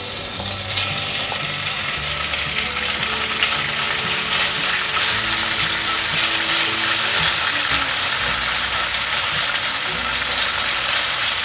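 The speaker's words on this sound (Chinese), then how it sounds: "接着开火来煎这个面肠" Mian chang, Chinese flour sausage dusted with potato starch, sizzles in a pan with a continuous bright crackling hiss, close and steady throughout, with no talking over it.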